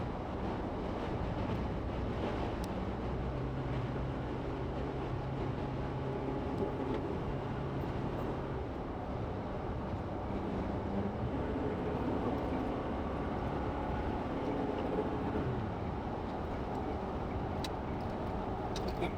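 Steady wind roar and low road rumble inside a car driving from downtown Denver up I-70 toward the Empire exit as a snowstorm threatens in March, a continuous broadband whoosh with no talking.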